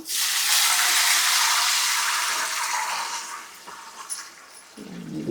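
Water and milk pour into a hot tempering for ghee upma with a loud rushing, hissing splash that gradually eases, breaks into a few bubbling spurts and then changes near the end.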